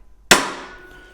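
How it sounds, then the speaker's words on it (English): A single sharp hammer blow on a Tork Craft workshop accessory, a bright metallic strike that rings out and decays slowly over about a second, heard alone at close range. "hit it with a hammer."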